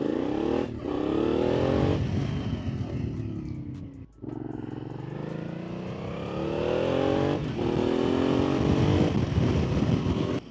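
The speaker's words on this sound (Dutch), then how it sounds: "Ik heb een lekkere tweecilinder, dus mijn motor is niet zo super rustig." Two-cylinder motorcycle engine under way while riding, loud and close, with rising and falling revs through gear changes, a brief drop in sound partway, then renewed acceleration.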